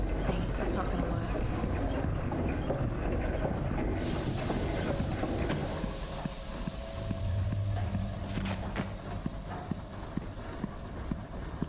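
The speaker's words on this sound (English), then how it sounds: "It's some kind of steam engine. It's so loud." A steam engine in the video game Lorelai runs with a loud rhythmic mechanical clatter and steady chugging, and a voice talks over it.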